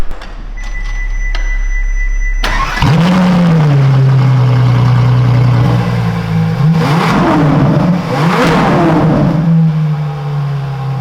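A black Ferrari LaFerrari hybrid starts with a sharp crank-and-catch, then settles into a loud, steady idle punctuated by two quick throttle blips that swell and fall, heard close and alone.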